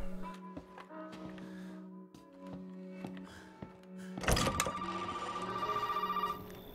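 Telephone ringing inside an old house in the horror video game Resident Evil 7: a faint, repeated electronic ring with soft thunks between rings, then a louder buzzing burst near the end.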